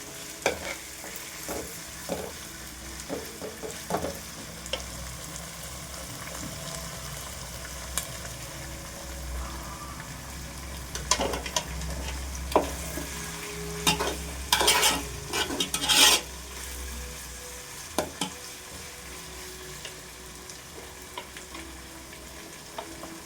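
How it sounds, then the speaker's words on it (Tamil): Tomatoes and curry leaves sauté in a frying pan, with steady sizzling and scraping stirs that grow busier midway, then a quieter sizzle. No talking. "இதிலே கொஞ்சம் கருவேப்பிலையும் சேர்த்துக்கிறோம். சேர்த்து இதை நல்லா கொஞ்சம் வதங்கட்டும்."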